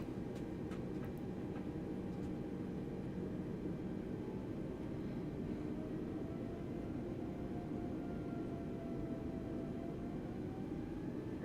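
Airbus A320neo engines in a flight simulator spool up from a steady low roar to a rising whine, a continuous, fairly quiet drone with a slow upward-sliding tone and a few faint clicks near the start.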